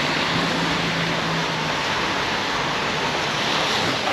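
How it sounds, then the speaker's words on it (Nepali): Steady rain falls in the city, a dense, even hiss that continues unbroken throughout at moderate level, with no voices over it. "लास्ट पानी परिरहेको यार"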